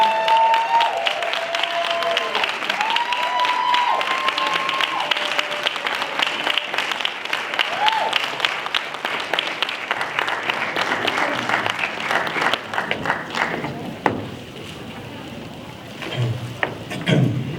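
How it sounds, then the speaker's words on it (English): A conference audience at a Black Student Union keynote applauds at length as a speaker is welcomed to the stage, dense steady clapping with scattered voices that thins toward the end. "Thank you very much for that much appreciated applause"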